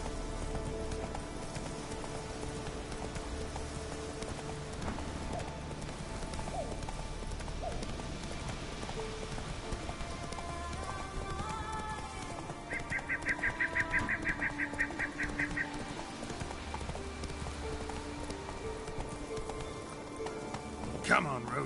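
Roach the horse gallops in The Witcher 3 with steady, rhythmic clip-clop hoofbeats running throughout, layered under game sounds and a voice urging the horse on.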